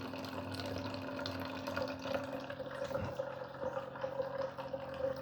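Filtered water pours from a Simpure Y10C filter pitcher into a cup, a steady trickling stream over a constant pump-like hum with a low tone, no voices.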